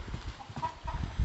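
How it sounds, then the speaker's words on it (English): Farmyard roosters and chickens at a farm with pigs, with short clucking and crowing calls over a busy outdoor background, fairly close and moderately loud. "Not going there. Roosters."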